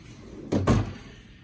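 A drawer on a US General five-drawer Harbor Freight tool cart opens with a short double thud, one quick low knock followed right after by a second slightly louder one, close and alone over a quiet room hum.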